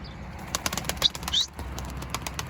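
A tumbler pigeon takes off with a quick burst of close wing flaps and rustling, followed by softer fluttering as it flies away, with faint chirps in the background.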